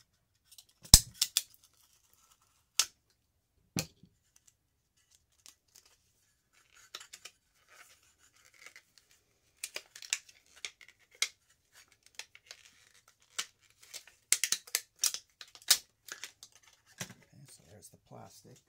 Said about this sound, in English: So I'll just go ahead, start pulling off the plastic.